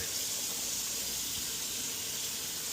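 Water runs steadily from a kitchen tap into a pot being rinsed, a continuous close hiss that fills the whole stretch without pause.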